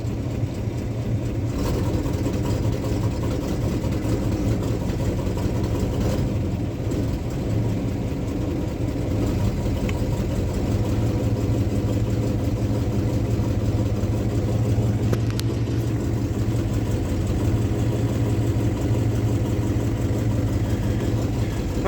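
A unibody Ford F250 engine idles after a cold start, a loud, steady low rumble close by that holds an even note throughout with no speech.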